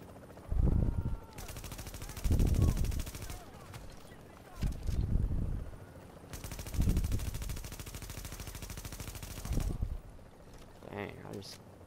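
Gunfire in The Division video game, a few separate bursts of rapid shots spaced a couple of seconds apart at moderate level, with heavy low thumps and someone talking between them.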